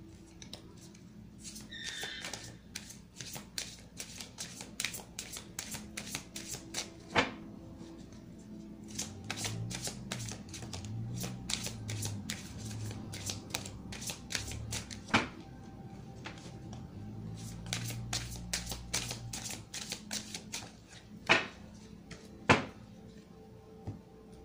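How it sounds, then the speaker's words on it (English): Quiet, repeated crisp flicks and slaps of tarot cards being shuffled and turned over on a table, with soft rustling between sharper clicks throughout. "Let me turn these cards over one time."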